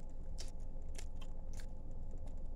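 Food is chewed right beside the microphone, with soft crunchy bites at a steady pace, about one every half second, over a constant low background hum.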